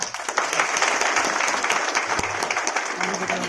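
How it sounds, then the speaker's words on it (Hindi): An audience at a school speech and quiz competition event claps steadily for the judges, a dense, continuous wash of applause at moderate level, with a few sharper claps standing out. "जज उनके लिए सबसे पहले ताली बजाएंगे"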